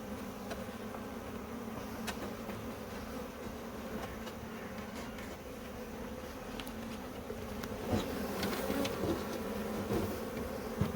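Small honeybee swarm being moved into a hive, a continuous soft buzz of many bees close by, faint and steady with brief louder passes near the end.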